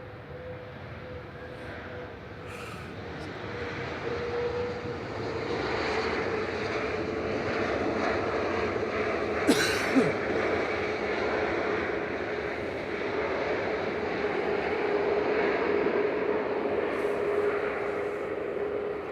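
An Airbus A321neo airliner arriving from Malaga at Manchester Airport gives a steady, moderately loud engine roar with a faint whine, swelling slightly midway and holding to the end, with no talk.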